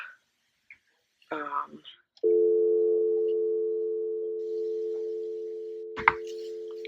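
A steady, continuous telephone call tone hums while dialing a fertility clinic. It starts after a brief burst of voice and a few soft clicks, and a sharp click lands near the end.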